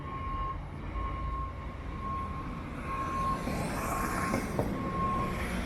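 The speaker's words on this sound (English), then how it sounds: "It's a GO train heading east." A GO commuter train passes along a street in Toronto, a steady low rumble of rail traffic heard from a sidewalk amid city noise, swelling slightly as it goes by, with no talk.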